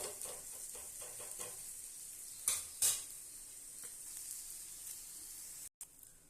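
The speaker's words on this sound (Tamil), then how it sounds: "ஸ்டவ்வை மீடியமாகவே வச்சு வேக விடுங்க அப்போதான் நல்லா வேகும்" Ragi adai, a finger-millet flatbread, cooks on a pan over a medium flame with a faint steady sizzle and a couple of brief louder crackles, no talking.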